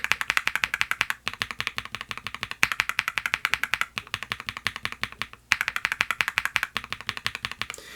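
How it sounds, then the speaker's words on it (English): Steady typing on a KeysMe Mars 3 mechanical keyboard fitted with Gateron switches, a close, crisp run of rapid clacking keystrokes with two short pauses, no voices. "let's go ahead and do a quick typing test. Again, this is on the actual keyboard"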